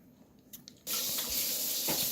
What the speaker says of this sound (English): So now we're gonna add just a little bit of water.